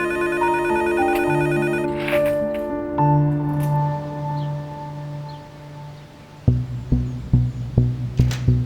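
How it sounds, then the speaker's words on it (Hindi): A telephone rings in a Turkish drama dubbed in Urdu: first a sustained melodic electronic ringtone, then a series of sharp, evenly spaced ring pulses, clear and close. "जाकर फोन उठाओ। कब से फोन बज रहा है?"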